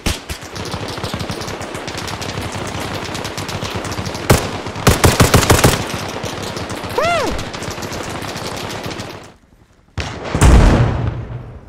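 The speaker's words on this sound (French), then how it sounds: "C'est ça les gars, continuez, tir de suppression!" Suppressive machine gun fire in Arma Reforger roars in sustained, dense bursts at close range, with heavier cracks and a whistling ricochet partway through, a brief lull, then another loud burst.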